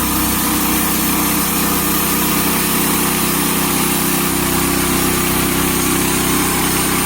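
A sawmill saws a 13-inch log into 6/4 boards, giving a loud, steady engine-and-blade drone that holds unbroken and close for the whole stretch, with no talking.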